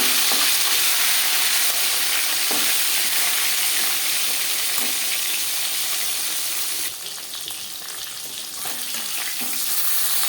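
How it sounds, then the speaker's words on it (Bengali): Marinated tilapia fish frying in hot refined oil, a continuous close sizzle with a few scrapes and taps of a utensil and a brief burst of sharper spattering. "মাছ ভাজবার জন্য 5 চামচ রিফাইন্ড অয়েল গরম করে নিয়েছি।"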